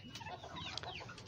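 Chickens and roosters on a rooftop cluck and chatter faintly at a distance, a soft, continuous stretch of fowl calls with no talking.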